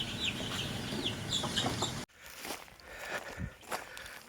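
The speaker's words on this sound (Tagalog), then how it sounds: "Nandito na po yung ating mga manok na" Newly bought chickens on a farm cluck and chirp steadily at close range, then after a brief cut footsteps crunch among quieter, scattered clucks.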